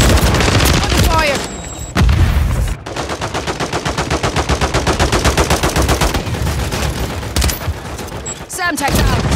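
Call of Duty Warzone multiplayer gunfire, with dense rapid automatic bursts of close, loud shots forming a sustained rattling fusillade, broken by short gaps and heavier booms, amid game effects and occasional radio-style voice callouts.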